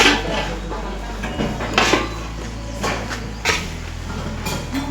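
Food stirred in a large cooking pot over low gas for a 600-person meal of jeera rice, dal, mataki bhaji and puri, with metal clanks and scrapes of a ladle against the pot over a low burner hum.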